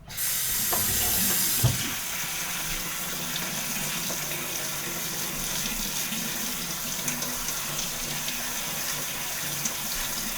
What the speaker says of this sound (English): the peas are nice and big, and we're just going to rinse them